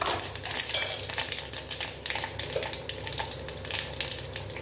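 Mustard seeds, fenugreek and cumin crackle and sizzle in hot oil in a pan, a busy close spattering with clinks of a metal spoon stirring against the vessel, and no talking.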